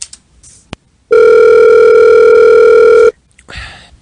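A loud telephone tone rings for about two seconds as radio hosts place a call on air, steady and close, with brief faint noises before and after.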